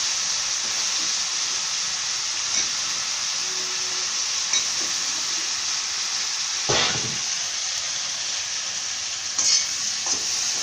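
Eggplant pieces with curry leaves and turmeric fry in a pan with a steady, close hiss, broken by a few louder scrapes as they are stirred.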